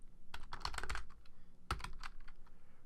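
Computer keyboard typing while entering text in Photoshop Elements, a quick cluster of soft close key clicks, a pause, then a few more taps, faint and alone with no talk.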